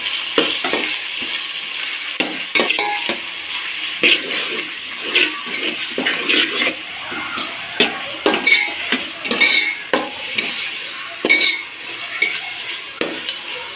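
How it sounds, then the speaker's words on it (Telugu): A potato biryani mixture with a little turmeric is stirred in a pan, giving irregular scraping and sizzling strokes with soft frying hiss underneath and no talking. "లైట్గా పసుపు కూడా వేసుకున్నాం కలుపుకోవడం ఇప్పుడు బాగా అన్ని కలిసిపోయేలాగా కలుపుకున్నాం"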